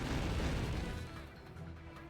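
A loud, roaring explosion from the Shining Laser attack in the Digimon Story Cyber Sleuth video game, a dense booming blast that gradually fades over two seconds.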